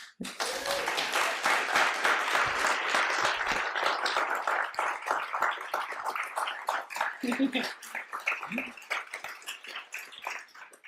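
A room full of attendees at a community session in Dundee gives a big round of clapping for the tech team, dense and energetic at first, then thinning into scattered claps with brief voices near the end.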